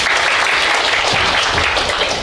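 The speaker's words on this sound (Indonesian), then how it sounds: "Tepuk tangan, pakai tepuk tangan." Students in a classroom clap their hands together in a dense, steady burst of applause that stays loud and close throughout, with no talking over it.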